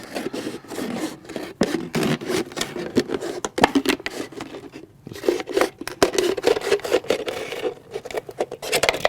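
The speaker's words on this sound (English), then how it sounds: "take a pair of scissors and then just cut, hopefully." Scissors cutting through a stiff plastic bottle, giving repeated close snips and rasping scrapes in an uneven rhythm, with short pauses between cuts.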